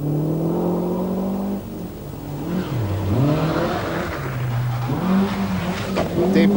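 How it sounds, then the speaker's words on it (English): A Mitsubishi Galant rally car on the 1990 Lombard RAC Rally moves cautiously through water, its engine revving and dropping in pitch with rising and falling surges, close and fairly loud, with a splashy wash in the background. "A cautious approach to the water for Suzuki Oba in the Mitsubishi Galant, 17th overall."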